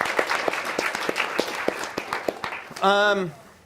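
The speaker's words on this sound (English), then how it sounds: "if I could just get a round of applause for all those groups" Audience applause, a steady mix of many hands clapping, ending in a brief voiced sound as the clapping fades.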